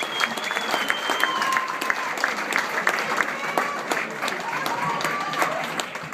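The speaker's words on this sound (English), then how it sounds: "Please give a special round of applause for Jamie and Fran." Guests at an Ethiopia benefit dinner give a warm round of applause, many hands clapping densely and continuously, with scattered cheers and voices mixed into the crowd noise.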